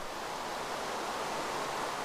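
Rain falls in the Minecraft video game as a continuous, even hiss of broadband noise with no breaks, fairly loud and with no voices.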